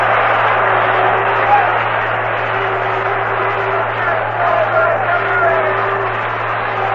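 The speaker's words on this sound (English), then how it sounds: "And the Cincinnati crowd is roaring." Crowd at a Cincinnati Reds World Series Game 7 against the Athletics, a steady broadband roar that holds for the whole stretch and sits under a constant low hum, with no clear voices standing out.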